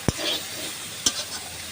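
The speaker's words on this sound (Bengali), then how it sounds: "এখানে বেগুনটা ভাজা হয়ে গেলে উচ্ছে আর ডাঁটাটা ভেজে নেব" Eggplant frying in oil in a pan, a steady close sizzle broken by two sharp clinks of a spatula stirring, with no talking.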